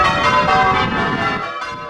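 Church bells of St John's Church in Bollington ring out together in a dense, loud, continuous peal, the overlapping strikes blending into a rich sustained wash with no voices.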